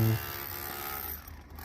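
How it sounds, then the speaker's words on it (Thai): A hammer drill chiselling into a reinforced concrete column runs as a steady, loud grinding rattle with a buzzing drone, continuous for the whole stretch after a short thump at the start. "ช่างที่ใช้สว่านสกัดออกนะครับเขาก็จะใช้เป็น"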